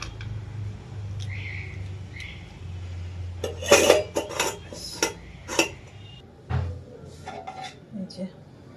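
Cashews and raisins are stirred into freshly made payesh in a container, giving a series of sharp spoon-on-metal clinks and scrapes over a low hum, with a voice talking quietly between them.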